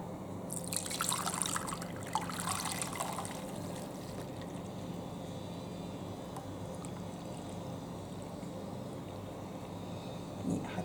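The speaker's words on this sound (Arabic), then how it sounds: "دونك هوني باش نحط هوني الحليب نتاعي بسم الله" Milk being poured into a flan mixture of eggs and caramel, making a steady liquid rush with a splashier start, close by and continuous, with no talking.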